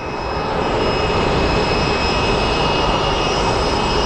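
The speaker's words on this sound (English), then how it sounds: "the 777 that is about to go to Heathrow is lining up for takeoff" A Boeing 777 jet lines up for takeoff at Sky Harbor Airport, its engines a steady, broad roar with a faint high whine, heard from a distance and unbroken by voices.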